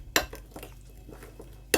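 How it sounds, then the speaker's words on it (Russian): Utensil clinks against a bowl while a marinade of pressed garlic and two tablespoons of mustard is mixed, two sharp clatters at the start and end with softer scraping and stirring in between, close and alone. "Хорошенечко все соединяем между собой."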